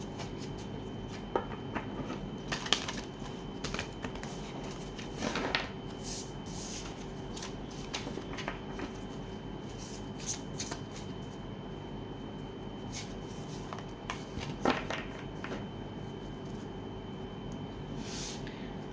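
Tarot cards being shuffled and handled during a reading, soft papery riffles and slaps recurring in short bursts over a quiet room hum, with no talking.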